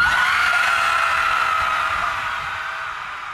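A crowd at a Say Abortion vigil rage screaming together in one sustained, loud, unbroken collective yell that slowly fades toward the end.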